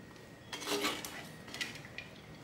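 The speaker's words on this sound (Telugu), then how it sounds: "దించే ముందు చిటికెడు ఇంగువ వేసి మళ్ళీ కలుపుకోవాలి" A spoon scrapes and clinks against a pot while amla (gooseberry) rice is stirred, with a short cluster of metallic clatter and then lighter taps, quiet and close with no talking.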